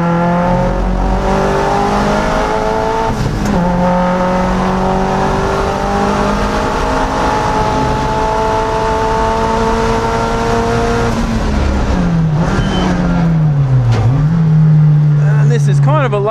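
A boosted Mazda MX-5 Miata laps The Bend circuit in Australia, its engine loud and close as it holds steady revs in fourth, then dips and climbs again through a corner, while someone talks over the drone.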